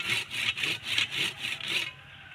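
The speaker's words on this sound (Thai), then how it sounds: "แล้วก็เลื่อยล่าง" The lower cut through a bamboo branch with a hand saw: six or so brisk, evenly spaced rasping strokes sound up close and alone, then break off into quiet.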